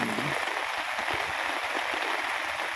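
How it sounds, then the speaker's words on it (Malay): Dense, steady hiss of heavy rain falling on surfaces all around at a campsite in Kuantan, Pahang, with a brief low voice near the start. "Hujan lagi guys."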